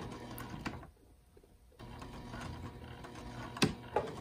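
Sewing machine tacking an embroidered mask in place, whirring in busy mechanical bursts that briefly pause, then resume with ticking and a couple of sharp clacks, heard close up.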